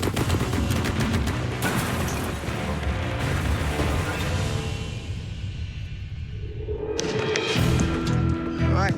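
A light machine gun fires outdoors in dense rapid bursts, a loud continuous clatter of shots that thins out partway through before a final sharp volley, with faint voices underneath.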